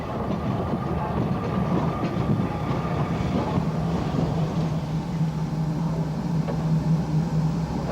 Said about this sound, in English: the main train was drawn back into the station by the E1